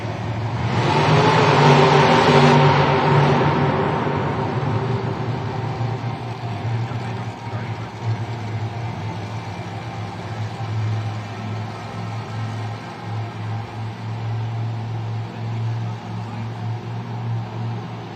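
Monster Jam monster trucks at a stadium event in Miami rev loudly and roar off the starting line, a big surging engine blast that peaks early then settles into a sustained distant drone.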